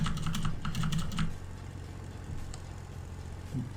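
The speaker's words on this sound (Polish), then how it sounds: "Klikam sobie cały czas V i jedzie dobrze." A computer keyboard's V key is tapped rapidly for about a second, a burst of close, crisp clicks over a steady low engine hum that carries on alone afterward.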